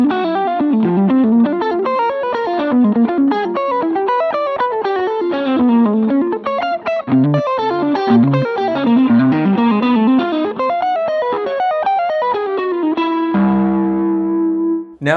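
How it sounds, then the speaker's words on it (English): Electric guitar played through a Tech 21 Oxford overdrive pedal, a continuous loud driven lead line of quick melodic notes with sustain, ending on a held chord that rings out alone. "that's the Tech 21 Oxford pedal. It's been my main drive for a long time now."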